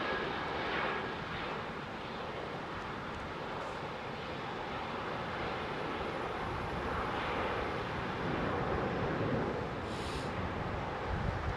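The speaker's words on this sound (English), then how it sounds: "That helicopter is quite old, isn't it?" An old Westland helicopter flies over the Heathrow airfield, its loud, steady engine and rotor roar filling the whole stretch with a constant wash of noise, with no voices heard.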